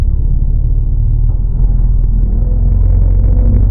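Porsche 918 Spyder hybrid supercar running: a deep, steady low rumble heard from inside or close by, continuous and even, with no talk.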